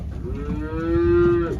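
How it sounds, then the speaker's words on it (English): A cow on a farm moos once, a long drawn-out low call that swells and holds steady before trailing off, heard close and alone over faint outdoor background noise. "Cows gonna come over here."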